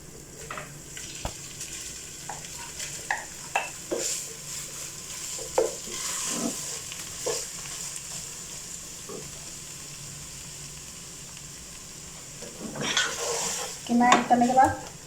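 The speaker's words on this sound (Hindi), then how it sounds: "कीमा ऐड करने के बाद इसे अच्छे तरीके से भून लेंगे" Minced meat fries with lightly browned onions for qeema karele, a steady sizzle broken by spoon scrapes and pan knocks, growing busier near the end.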